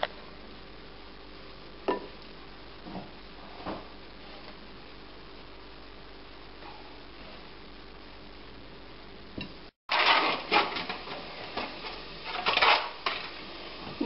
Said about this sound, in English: Keep on mixing it until all the breadcrumbs are soaked